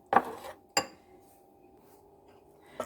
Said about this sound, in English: Add the vanilla essence and mix that through